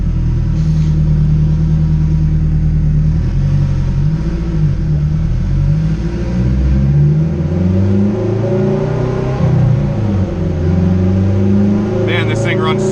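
A turbocharged Acura RSX engine runs steadily on a dyno, a loud continuous drone with shifting harmonic tones as it cruises at moderate revs, with someone talking over it.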